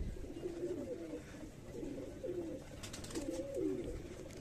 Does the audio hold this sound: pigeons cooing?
yes